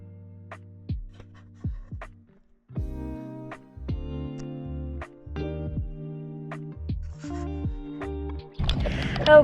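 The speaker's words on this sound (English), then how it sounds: "Kelly's drinking water, if you can hear that" Kelly drinking water, a series of close gulps and swallows with watery gurgles in an irregular rhythm, ending in a brief rustle.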